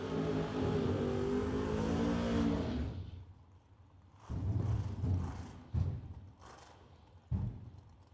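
Drag race cars, a Nova and a Mustang at a doorcar showdown, roar loudly under full throttle for about three seconds, then fall to a low rumble broken by several short, sharp revving bursts.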